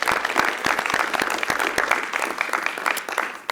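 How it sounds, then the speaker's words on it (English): Audience applause for band students at a school board of education meeting: dense, steady clapping from a room of people, sustained at moderate loudness throughout with no voices over it. "If we could give a round of applause for all of our band students."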